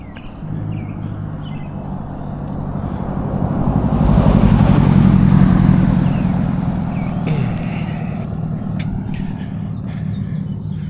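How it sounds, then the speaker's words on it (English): A vehicle approaches from behind on the road, its rumble swelling to a peak and then easing off, heard continuously under the steady drone of the speaker's own vehicle, with faint bird chirps appearing toward the end. "Like that vehicle coming up behind me."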